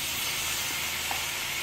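Tomato block sizzling in a pan for chickpea curry, a steady close hiss and crackle with no talk.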